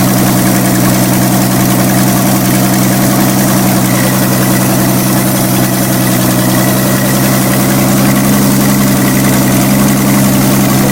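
A 1964 Mercury Comet engine runs at a steady idle, close and loud, with a low rumbling drone and constant vibration throughout and no talking.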